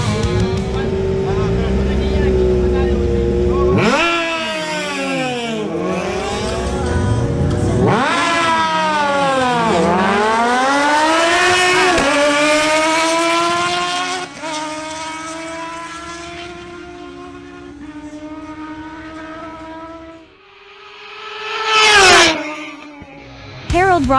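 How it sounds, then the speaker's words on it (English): Kawasaki ZH2 and Ninja Z1000SX motorcycles drag racing, engines screaming up through rising revs with sharp drops at each gear shift, loud and close, then fading before a final passing roar. "Harold Rodolo on his Kawasaki ZH2 faces off against Martin Correa on his Kawasaki Ninja Z1000SX."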